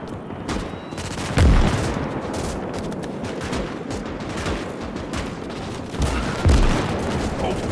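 In Call to Arms: Gates of Hell: Ostfront, an anti-tank/artillery gun fires during a defensive battle, two heavy booming shots about five seconds apart cutting through a steady crackle of distant small-arms fusillade.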